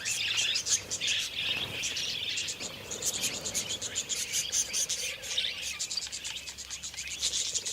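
Wild budgerigars chirp in courtship along an Australian riverbank, a busy flock of rapid, overlapping high twitters and tweets, fairly close and continuous over a faint insect-like background.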